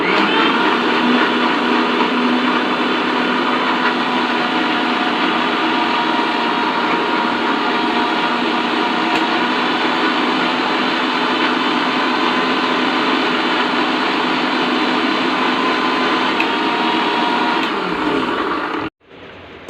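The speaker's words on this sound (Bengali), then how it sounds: "মিক্সিটা অন করব।" A mixer grinder blends mango lassi with water, a loud continuous whirring roar running steadily for nearly twenty seconds before cutting off abruptly.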